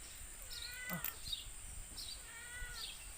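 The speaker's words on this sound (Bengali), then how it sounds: "মেমু করতেছে বিলাই" A cat meows several times in a row, soft, drawn-out, slightly plaintive calls heard at a moderate distance in a quiet village setting.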